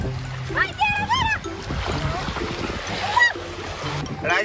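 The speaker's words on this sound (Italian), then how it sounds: "Ora ti schizzo io." Water splashes and slaps in the sea as children play in the shallows, bursts of splashing mixed with excited children's shouts and talk close by.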